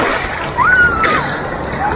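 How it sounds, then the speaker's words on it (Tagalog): Strong sea waves wash and splash along the shore at Infanta, Quezon, a steady surf roar with a brighter surge midway; voices and a whistle-like call sound over the water. "Lakas ng alon dito sa Quezon."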